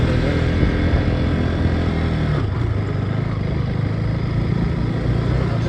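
A motorbike ridden up a wet mountain road in light drizzle, its engine droning steadily and loudly close by, with a brief shift in tone midway and no break.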